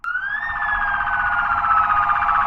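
Police car and ambulance sirens wail loudly and continuously, a sustained electronic tone with a slight upward pitch shift near the start and steady pulsing warble throughout, no voices.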